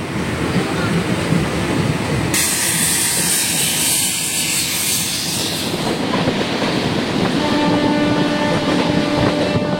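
A passenger train on the Medinipur to Panskura line rumbles steadily from onboard in rain, with a loud continuous roar and rattle of the carriages and a brighter hiss that comes in partway through.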